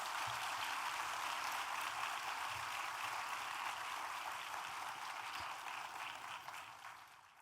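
An audience at a women's symposium in Mumbai gives the panelists a big round of applause, a dense, even wash of clapping that holds steady and then fades toward the end.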